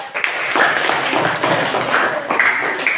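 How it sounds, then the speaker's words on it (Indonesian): Students in a classroom clapping for a presenting group during a civics lesson, a short burst of many hands with a few sharper individual claps, close and fairly loud. "Beri tepuk tangan untuk kelompok 2"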